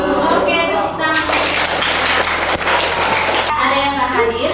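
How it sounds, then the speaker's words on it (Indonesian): Classroom applause after a call to clap: a burst of clapping from students lasting about two seconds, mid-level and fairly close, with voices talking before and after it. "Oke, tepuk tangan"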